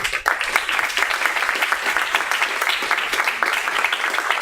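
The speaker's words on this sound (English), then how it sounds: "A round of applause for Yuval too." A meetup crowd in Barcelona claps heartily for a speaker, a thick wash of overlapping hand claps holding steady for several seconds with a few sharper individual claps standing out.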